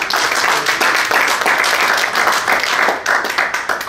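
Congregation applause at a Spanish-language church service, dense and loud continuous clapping throughout, close and steady with no talk over it.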